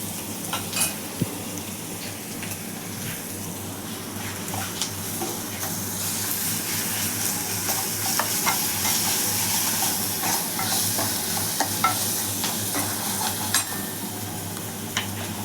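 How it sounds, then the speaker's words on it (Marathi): Ginger garlic paste is sautéed with browned fried onions in a pan, giving a continuous close sizzle and hiss with scattered stirring scrapes and clicks, and no talking. "थोडं आलं लसूणची पेस्ट टाकायची, परतून घ्यायचं."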